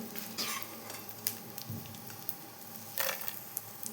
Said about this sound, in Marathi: त्याच्यामध्ये हा डिंक दोन टीस्पून घेतलेला आहे त्याला व्यवस्थित आपल्याला तळून घ्यायचं आहे